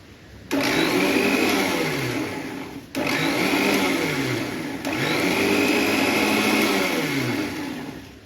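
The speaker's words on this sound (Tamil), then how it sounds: "இப்போ அதை நம்ம வந்து அரைச்சிடணும்" An electric mixer grinder whirs loudly while grinding roasted curry leaves into powder, running in three close bursts with brief stops between them, the motor pitch sagging and rising as the jar contents churn.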